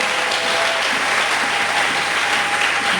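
A church congregation at a sermon claps and cheers in praise, a loud, continuous wash of applause with faint crowd voices mixed in, sustained throughout.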